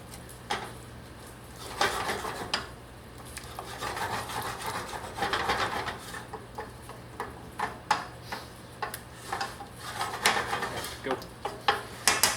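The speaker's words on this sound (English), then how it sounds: "Take a second and scrape the sides down." A spoon scraping down the sides of a cooking pot of cassoulet, repeated rasping strokes and light taps at an uneven pace, close and fairly quiet against a low steady hum.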